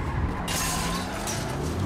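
A supercar races in a video game, its engine drone steady throughout with a skidding, tire-scrubbing edge, moderately loud and continuous.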